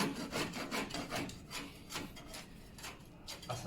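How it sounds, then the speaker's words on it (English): A dried-out, damaged wall is sanded by hand in steady back-and-forth rasping strokes, close and continuous, with no talking. "Sanded."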